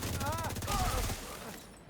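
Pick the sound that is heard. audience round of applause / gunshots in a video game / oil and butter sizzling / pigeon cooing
gunshots in a video game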